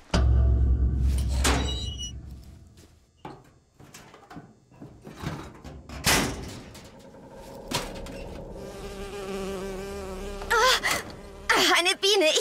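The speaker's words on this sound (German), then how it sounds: "Oh, eine Biene, ich hasse diese Viecher." An insect in Bioshock Infinite buzzes in on and off, a thin whining drone weaving through knocks, thuds and other game sounds, moderately close, with no talk over it.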